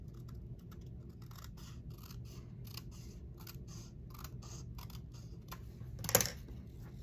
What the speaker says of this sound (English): Let me cut it better.